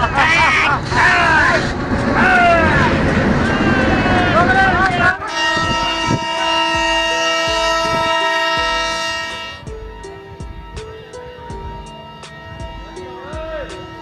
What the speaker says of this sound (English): The train moves on